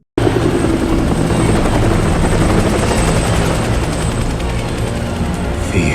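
A helicopter in a scene from the film The Batman (2022): a loud, steady rotor thrum fills the whole stretch, constant and close, with no voices over it.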